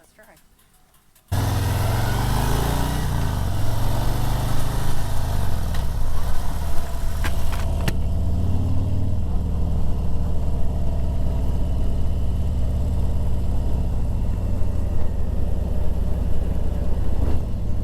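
A Harley-Davidson LiveWire electric motorcycle rides on a road test, starting abruptly after a quiet second into loud, steady wind rush with a faint motor whine rising and falling as speed changes.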